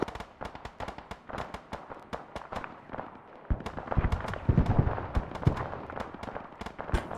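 Rapid cannon bursts from a flak gun in the Arma military game, a dense run of sharp, loud reports hammering in quick succession, growing heavier and deeper partway through.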